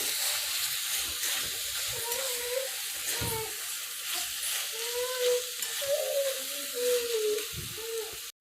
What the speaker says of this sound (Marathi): आता हे मसाले सर्व व्यवस्थित तेलावरती परतून घ्या